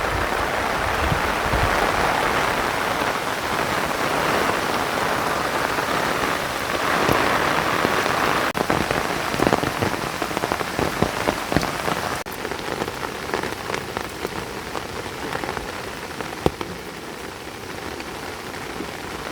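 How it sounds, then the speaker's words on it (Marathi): Steady rain pattering on a surface at a Konkan farm during ploughing season, continuous broadband hiss with scattered louder drops, close and fairly loud throughout. "सध्या थोडा पाऊस कमी आला आहे"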